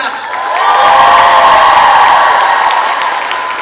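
A large audience in an indoor hall gives a standing ovation at an awards event, with cheers and whoops, the sound swelling after a moment and holding steady as a loud, continuous wash.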